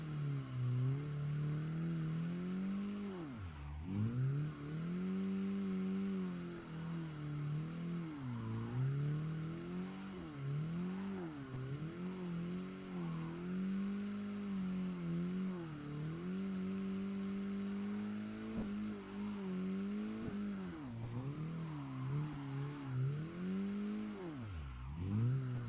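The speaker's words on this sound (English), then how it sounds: "It's just a little bit annoying, the tire sounds." Drifting car in the Assetto Corsa racing game, with a continuous droning engine whose pitch rises and dips as throttle shifts, tire squeal blended under the motor, steady and close with no talk.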